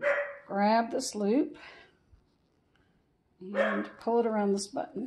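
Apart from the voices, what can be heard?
dog barking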